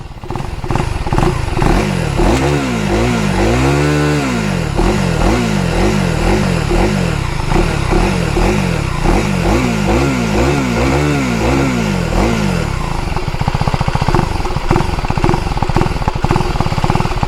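A Husqvarna Svartpilen 401 motorcycle revs loudly and close up, its single-cylinder exhaust rising and falling in repeated throttle blips before settling into a steady, rough idle burble near the end.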